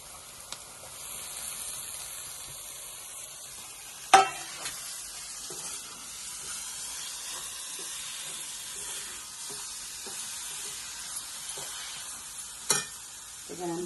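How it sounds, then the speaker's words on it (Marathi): Raw tomato added to fried onions cooking over a wood-fired clay stove, a quiet steady sizzle and hiss with occasional stirring scrapes and two sharp knocks, close, no talking. "आता मी त्यात टाकते कच्चा टोमॅटो."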